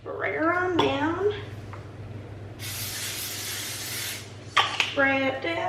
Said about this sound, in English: Spray it down, heat it up.